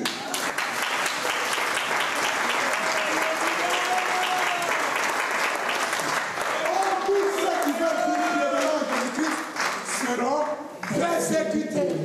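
A church congregation applauds and cheers for Jesus, dense sustained clapping from a large crowd with rising voices and shouts woven through it, loud and continuous for a long stretch.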